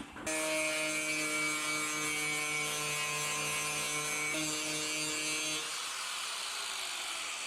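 A grinder flattening a metal flange on a Jeep Wrangler's driver-side body, giving a loud, steady, high-pitched whine that holds for about five seconds before winding down, with no talking.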